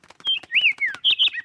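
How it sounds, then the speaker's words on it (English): A cartoon sparrow chirps a quick run of bright, whistled calls, with rising and falling sweeps close and clear over soft tapping clicks. "Look, Grandpa, a birdie!"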